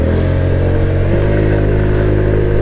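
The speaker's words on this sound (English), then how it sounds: "And that's the full throttle." A scooter engine held at full throttle while riding, a loud, steady, buzzing drone with a constant pitch that fills the whole stretch, with no talking.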